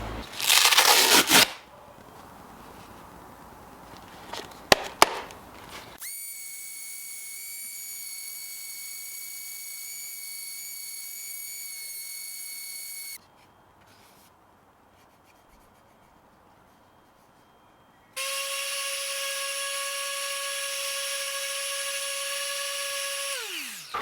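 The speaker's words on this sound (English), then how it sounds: "So I'm sure with this sander I'll put a new disc on and hopefully we can get it nice and smooth." A power sander smoothing a 3D-printed part for a Ford Sierra Sapphire Cosworth, a loud burst at the start, then a steady high whine, a quiet pause, and a second, louder sustained whine.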